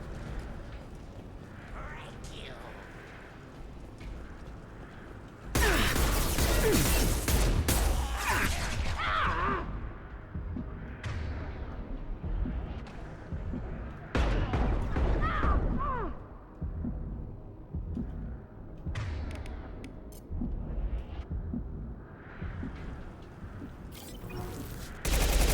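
Heavy, sustained gunfire and explosive blasts in the sci-fi shooter Mass Effect 2, loud rattling bursts starting and stopping over about half a minute, with someone talking between and over the shooting.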